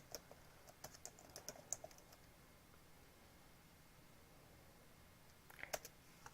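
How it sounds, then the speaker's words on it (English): Quiet, sparse clicks of typing on a computer keyboard, a few hesitant bursts of keystrokes at the start and another short burst near the end, separated by near silence. "I am just like not typing right at all"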